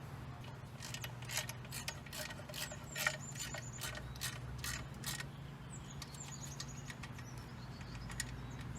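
Bolts being snugged and tightened on a transmission adapter plate mating a 1953 Chevrolet 235 engine to a T5 transmission: a quick series of faint ratchet clicks and metallic ticks, clustered at first then sparse, over a low steady hum.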